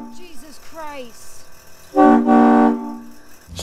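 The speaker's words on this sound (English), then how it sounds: "I didn't tell Tiffany that I installed an air horn" A train-style air horn with tank and compressor, mounted on a 4WD Kodiak truck camper, lets out one loud, close, brassy blast of under a second after brief voices, then cuts off abruptly.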